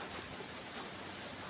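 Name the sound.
rain falling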